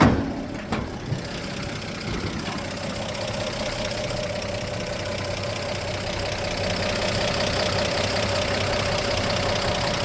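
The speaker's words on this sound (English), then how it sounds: "this engine just sounds great" A 1952 Chevrolet 3100 shortbed pickup engine idles steadily and close by, a smooth continuous rumble with a faint knock, after a brief clatter at the start; no one talks over it.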